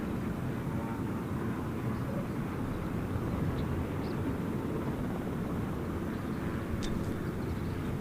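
An airplane on approach at Gold Coast Airport gives a steady, broad engine roar held evenly throughout, distant but continuous, with no talk over it.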